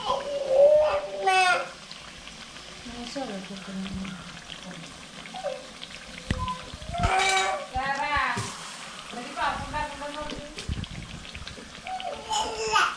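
Jackfruit bajji slices dipped in masala batter frying in a pan, with soft sizzling, clinking utensils and stirring scrapes, heard under intermittent talk from a nearby speaker.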